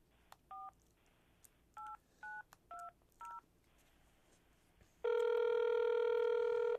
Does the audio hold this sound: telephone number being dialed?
yes